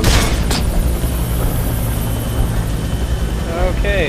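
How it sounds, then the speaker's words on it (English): Helicopter in the video game Nuclear Dawn, a loud rotor drone under game sounds with a sharp burst near the start and electronic chirps toward the end. "What's that helicopter coming?"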